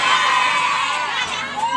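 A crowd at an Indonesian campaign speech cheers and shouts loudly all at once, a dense burst of voices with some high shrieks, close and continuous for the whole short moment.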